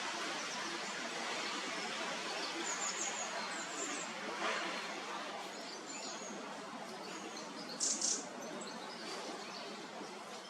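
Faint, scattered chirps and tweets of small birds, including chaffinches, at a feeder at RSPB Minsmere, Suffolk, over a hissy outdoor background, with a brief brighter burst of calls near the end.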